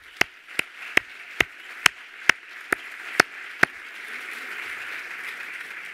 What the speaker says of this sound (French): Je veux aussi qu'on applaudisse et qu'on remercie cette belle équipe.